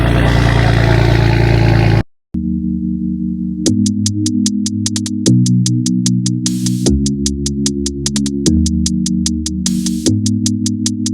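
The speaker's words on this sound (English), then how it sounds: "we got the M4 here. Valvetronic exhaust, F82 champagne quartz metallic" A BMW M4 F82 with Valvetronic exhaust sits idling, then the engine is revved repeatedly in short rising pulses, loud and close, the exhaust rasping between each sharp rise and fall.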